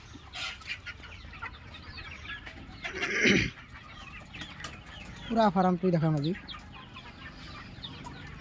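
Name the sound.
chickens clucking on farm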